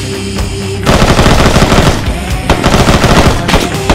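Automatic gunfire in the video game Arma: loud, rapid bursts of machine-gun fire after a brief quieter moment, continuing in dense rattling volleys throughout.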